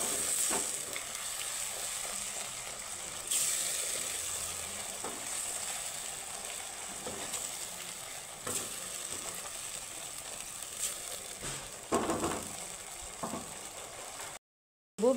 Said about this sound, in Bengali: মশলাটাকে আমি সুন্দর করে কষিয়ে নেব।